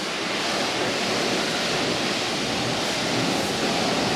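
At a car wash, a motorhome caked in mud and grime is sprayed with soap, a loud, continuous hissing spray of water that stays even and unbroken throughout.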